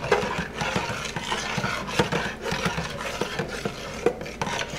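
Soap batter of honey and coconut milk being mixed by hand in a container, a continuous wet scraping and stirring with soft repeated knocks of the utensil against the sides, close and steady.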